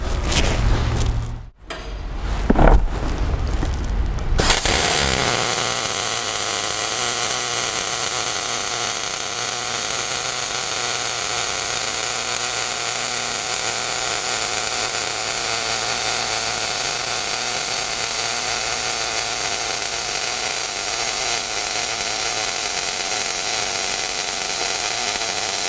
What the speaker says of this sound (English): the weld generated very little spatter and the welding arc was very consistent, and that was 16 volts at 200 inches per minute